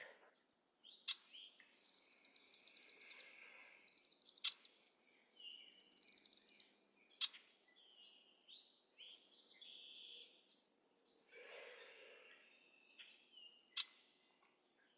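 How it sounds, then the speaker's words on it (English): Birds sing and chirp outdoors at Green Acres in Floyd, Virginia, with several bright, high calls repeating over a quiet background, fairly faint and without talk. "letting the birds sing to us"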